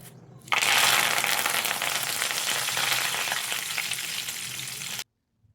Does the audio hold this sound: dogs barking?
no